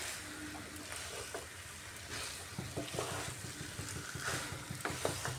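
Chickpea and chicken ghugni being stirred and fried in a wok: a steady close sizzle with repeated scraping and stirring knocks throughout.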